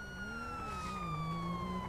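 A police car siren in a video game, a steady wailing tone that slowly descends in pitch, heard alone at moderate distance with no talking.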